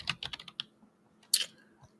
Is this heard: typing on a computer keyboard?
yes